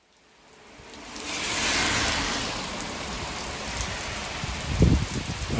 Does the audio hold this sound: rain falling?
yes